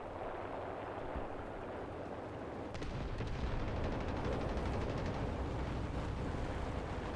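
Bombing in the War Thunder combat game: deep, rumbling explosions and battle noise roll in over a steady low din, growing denser and heavier partway through.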